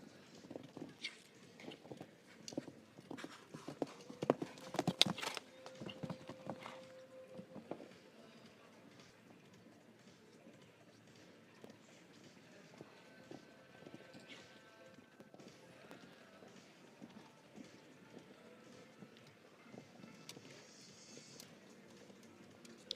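A show jumping horse's hooves thud and patter across an arena during a grand prix round, faint and scattered under a commentator's continuous talk, with a louder burst of hoofbeats early on.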